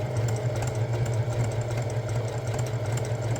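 A sewing machine runs steadily while zigzag stitching over the frayed edge of a jersey crest. Its motor hums continuously with a fast rhythmic needle clatter, close and moderately loud.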